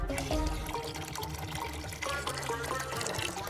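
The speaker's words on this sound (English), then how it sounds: "Add water." Water pours into a toy Lego Technic car wash machine, a steady splashing flow under a busy layer of background music.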